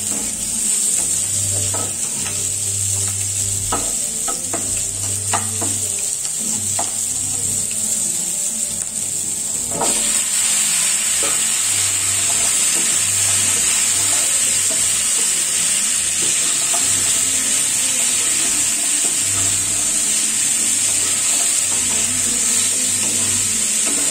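Cut pumpkin pieces fry in oil in a home kitchen pan, a loud continuous sizzle running throughout with a spatula scraping and stirring at intervals, close up.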